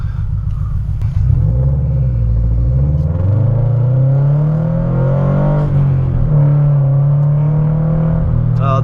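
A tuned Subaru BRZ fitted with a JDL header pulls away from a red light in a small acceleration, its deep engine note rising in pitch and then holding a steady drone, loud and close from inside the car.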